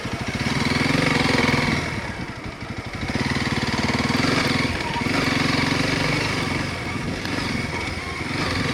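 Motorcycle engine droning steadily while riding through soft sand, loud and close with slight surges in revs, no talking.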